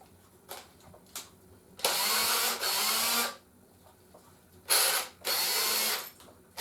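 A cordless 3-speed DeWalt hammer drill whirs in two pairs of loud bursts, each about a second long, with short quiet gaps and faint clicks between.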